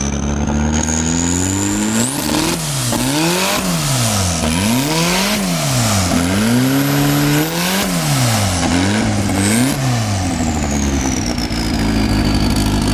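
A turbocharged Nissan 240SX engine with a lightweight flywheel and pulley revs up hard over and over from idle, loud and close, with rapid climbs and drops in pitch and turbo whistle on top.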